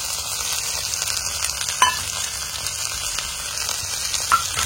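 Moringa and coriander leaves sauté in a pan with a steady, soft sizzle and light crackle, close and continuous, with a couple of faint clinks and no speech.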